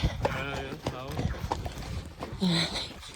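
Hooves clip-clop in a steady trot as a mare is ridden out on a hack, close rhythmic beats mixed with a rider's voice talking over them.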